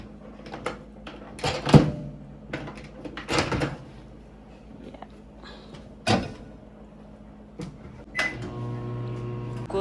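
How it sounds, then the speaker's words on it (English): A microwave door clunks and beeps sound, then the oven starts running with a steady low hum; a few handling knocks come before. "I'll warm this one just now, even put it in the microwave."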